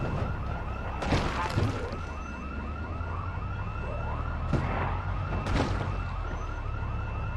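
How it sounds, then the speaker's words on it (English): In Project Zomboid, a car alarm sounds as a continuous whooping siren with rapid rising-falling cycles, loud and sustained throughout, broken by a few sharp impact-like bursts. "Oh no, no, not with the car alarms."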